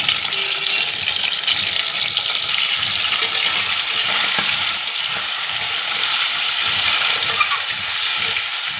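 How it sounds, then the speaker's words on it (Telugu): Small quail pieces fry in hot oil, giving a loud, steady crackling sizzle that runs unbroken throughout, close and dense with no one talking. "ఈ ముక్కల్ని మనం నూనెలో ఫ్రై చేసుకోవాలి"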